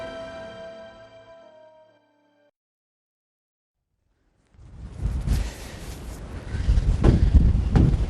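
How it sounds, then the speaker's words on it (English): Wind gusts buffet the microphone at Scarborough Castle on a cold, wet day, rising from near silence into a loud, rough rumble after a sustained musical tone fades out. "it's a very cold, wet, windy day in Scarborough"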